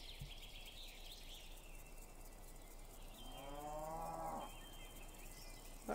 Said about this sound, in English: What, a cow?